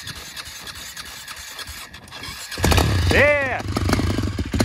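An ATV engine sputters, then catches and starts, revving up in rising and falling bursts before settling into a loud, rough idle close by, with a person briefly speaking over it.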